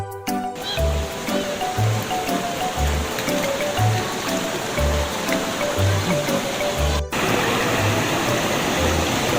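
Cigeruk river flowing at Gunung Puntang, a continuous loud rush of stream water with a low rhythmic thumping underneath, steady throughout.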